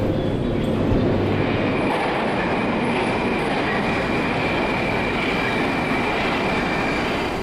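A modern Moscow metro train on the Circle Line roars along at speed, a steady loud rumble with a faint high whine of wheels and motor running throughout.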